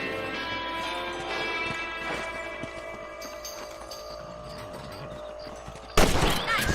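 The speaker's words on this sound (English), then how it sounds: "You're better at shooting rabbits than outlaws, I see." Rifle shots fired at rabbits on a farm in Red Dead Redemption, a few sharp cracks amid horse hooves and ambient game sound, with a louder burst near the end.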